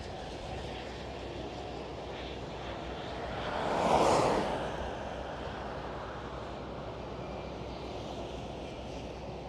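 A Vueling Airbus A320 airliner at Amsterdam Schiphol airport gives off a broad jet roar that swells to a peak as it passes, then fades back into a steady distant rumble.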